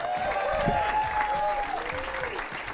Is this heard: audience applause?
yes